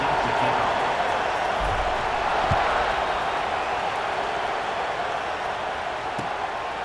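A stadium crowd in the EA Sports College Football 26 video game holds a steady, dense roar before kickoff, loud and unbroken throughout.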